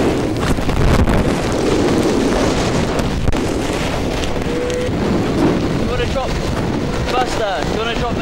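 Strong wind buffets the microphone in a continuous roar during a storm at Dartmouth, with water and boat noise underneath and faint voices near the end.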